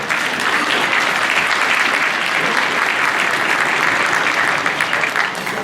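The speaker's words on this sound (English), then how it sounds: "Let's give our chef and our host and hostesses a round of applause for today's event" Loud, sustained applause fills a luncheon hall as an audience honours the chef, hosts and hostesses, a dense and even wash of clapping with no voices over it.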